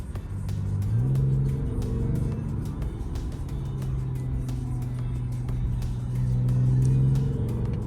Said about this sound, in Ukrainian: Ви чуєте, да, який звук вихлопа?